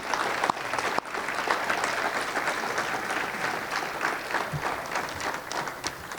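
A crowd applauds steadily, many hands clapping in a dense continuous wash that holds at an even level throughout.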